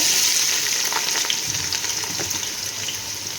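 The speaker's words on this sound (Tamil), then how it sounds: "நல்லா வெங்காயம் வதக்கணும்." Onions sautéing in hot oil with cinnamon and cardamom, a loud continuous hissing sizzle with light scraping underneath that eases slightly toward the end, no speech.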